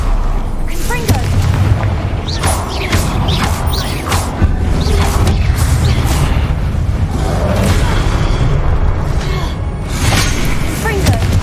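Repeated Confringo blasting spell explosions in Hogwarts Legacy combat, a steady stream of booming, crashing impacts with sharp bursts scattered throughout, loud and continuous, with a voice talking over the action.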